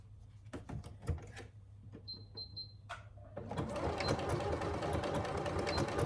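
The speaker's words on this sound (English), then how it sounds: "Now I'm going to stitch along the center, but I'm going to do it from the bottom to the top" A sewing machine stitches down the center of a hobo bag pocket in a steady, continuous run that grows louder and denser after a few seconds of quieter handling clicks and a brief high whine.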